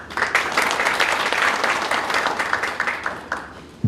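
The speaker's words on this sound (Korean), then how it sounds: "지리자에게 박수 한번 칠까요?" An audience claps steadily through a preliminary candidates' policy presentation for the Yongin mayoral race in the 6·13 local elections, a dense, even patter lasting about four seconds before easing off.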